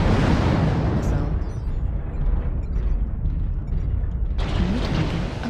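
LRM missile impacts pound a mech in MechWarrior Online, a dense, continuous barrage of loud rumbling blasts with a sharper burst of debris near the end.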